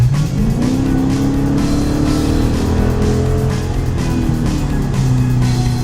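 A Mopar car's deep performance exhaust rumble builds under hard acceleration, the engine note climbing steadily and loud, heard from inside the cabin.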